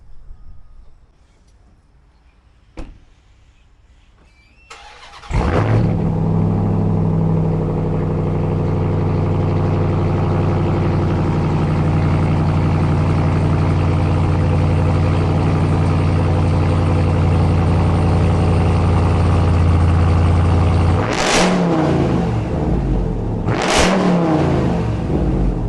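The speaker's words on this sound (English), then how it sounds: "nice throaty exhaust note, cruising, blower whine." A Ram TRX pickup fitted with a catback exhaust and a supercharger starts up with a sharp burst, then cruises with a deep, throaty exhaust drone and faint blower whine for about fifteen seconds before two loud revving surges near the end.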